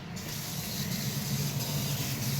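Steady, close spray of running water hissing over a brush being rinsed, continuous and fairly loud throughout with no talking.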